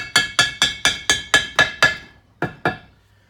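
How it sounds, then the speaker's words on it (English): A big hammer pounds lead ballast tiles smooth, with about ten sharp, ringing metallic blows: eight in a steady quick rhythm, a short pause, then two more, loud and close with no talking. "And this big hammer is doing a really nice job."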